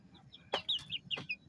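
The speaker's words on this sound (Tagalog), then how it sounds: "Mga ano ko, 3 native chicken, malalaki na sila." Native chickens cluck softly nearby in a series of short, quiet clucks and chirps over about a second and a half.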